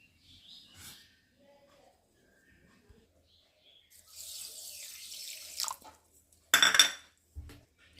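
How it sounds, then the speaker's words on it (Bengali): A bowl of water is poured into a kitchen pan to make a saffron sugar syrup, giving a short hissing pour followed by a brief louder splash and clink of the bowl, with quiet pauses around it. "তো এক বাটি জল দেব আর তার মধ্যে আমি একটু কেশর দিয়ে সিরা বানিয়ে নেব"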